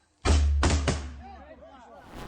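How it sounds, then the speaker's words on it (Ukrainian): An artillery gun fires: two loud, deep booming blasts in quick succession, then a rumbling fade as the echoes die away. "Вогонь! Постріл!"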